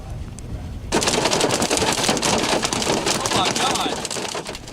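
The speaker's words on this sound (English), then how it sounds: "Listen to that hail as it fell on I-70 in Kansas." Hail pelts down on I-70 in Kansas in a sudden, dense roar of rapid hard taps and crackles, starting abruptly and staying loud and continuous.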